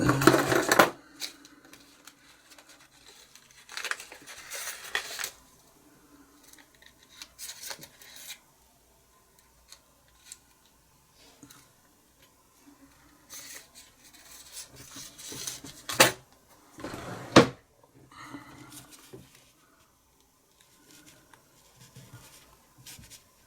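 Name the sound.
knocking plugged flint out of Flaminaire F12 pipe lighter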